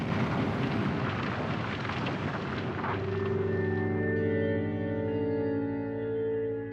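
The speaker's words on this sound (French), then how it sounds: "Des jets d'autant plus majestueux qu'ils sont accompagnés de ce grondement sourd." Stromboli volcano erupts with a deep, dull rumbling roar that swells and then settles into a sustained low drone, heard at a distance with no one speaking.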